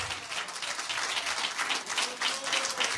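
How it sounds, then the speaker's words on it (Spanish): A church congregation claps loudly in unison during a service, a steady mass of applause filling the whole stretch. "Den un aplauso fuerte al Señor en esta hora."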